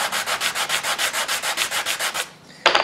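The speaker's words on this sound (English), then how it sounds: "So we're just going to take this piece of sandpaper and just on the edge of it here." Sandpaper worked by hand along the edge of a custom knife handle piece from a flint and steel knife-making kit, giving a steady series of about seventeen quick, even rasping strokes, close and clear, then a pause and a brief resumption.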